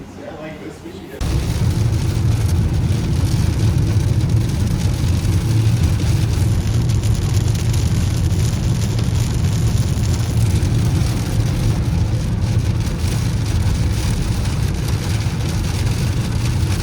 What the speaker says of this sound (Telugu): ఘోరంగా వర్షం పడుతుంది